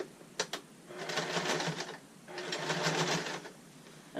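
A sewing machine stitches a Christmas tote bag about a quarter inch around the edge, two steady whirring runs of rapid stitching separated by a brief pause, with a couple of sharp clicks at the start.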